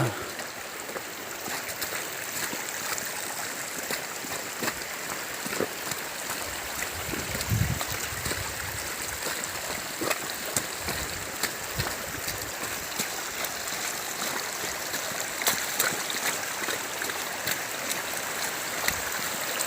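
Steady rushing rainwater flows over a muddy road continuously for the whole stretch, a dense broadband wash with occasional splashes and faint voices underneath.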